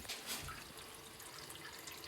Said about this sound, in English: the water is trickling through that black pipe there